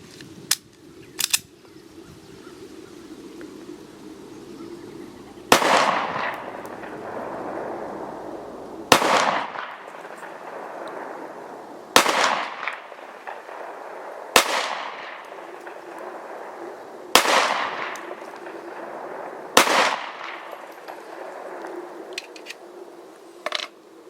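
A Remington R51 pistol fires about eight sharp, loud shots at uneven intervals of a few seconds, each crack followed by a short echoing decay outdoors, with small mechanical clicks near the start.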